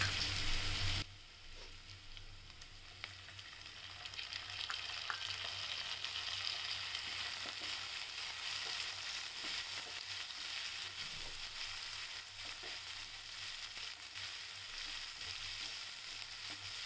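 Beetroot bhaji with tomatoes fries in a pan with a continuous soft hiss and crackle, close and fairly quiet, with faint occasional clinks and no talk.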